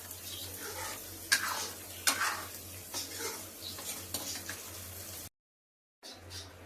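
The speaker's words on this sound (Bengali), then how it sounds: "যে পনিরটা ভাজা ছিল ওটা এবার মশলার মধ্যে দিয়ে দিচ্ছি।" Fried paneer stirred into a pan of sizzling masala, a soft steady sizzle with scraping stirs and a few sharper clinks, close and fairly quiet, ending in a brief silence before the frying resumes.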